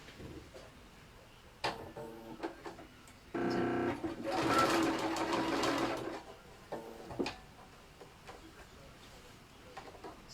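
A sewing machine top stitches bias binding onto a fabric basket, running in one steady burst of about two seconds between short clicks and handling noises, close and fairly quiet.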